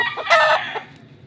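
A Boston Millionaire gamefowl rooster crows once at close range, loud and clear, in a short harsh call.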